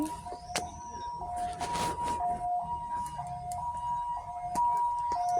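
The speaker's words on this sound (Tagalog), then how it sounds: "merong ambulansya na dumating" An ambulance siren wails at a steady two-tone pitch over busy outdoor background noise in Yangmingshan National Park, Taipei, Taiwan, with a few clanks and footsteps.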